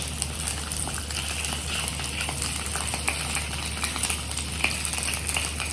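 Zucchini and other vegetables roasting on a hot grill pan, a steady close sizzle and crackle with scattered small pops and occasional stirring scrapes, no voices over it.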